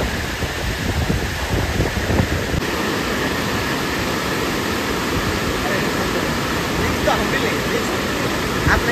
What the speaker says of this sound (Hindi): यहाँ से देखिए पूरा पानी बह रहा है एकदम मस्त